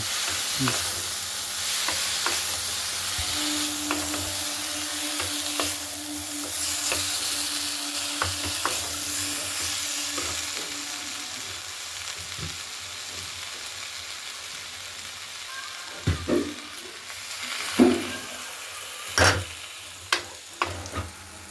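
Spice paste of ground ginger and cumin sizzles steadily in hot oil for a thin Bengali curry of small rohu fish, with scraping stirs and sharper clanks near the end and a faint tone humming underneath early on.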